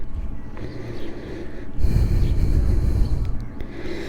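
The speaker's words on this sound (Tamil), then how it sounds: "இப்படி மூச்சு வாங்குதுப்பா." Heavy, close panting breaths from a food delivery worker on a part-time shift, with rough, snorting inhales and exhales that grow louder partway through.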